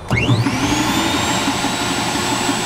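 A shredder blower and agitator run together as a steady, loud machine drone with a rising whine that settles into a constant high tone, continuous and alone with no talk.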